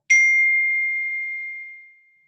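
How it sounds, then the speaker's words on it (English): A computer notification ding during an online team meeting, a single clear bright chime that rings out and fades slowly over about two seconds, heard alone with no talking. "I have notifications that ding that come through."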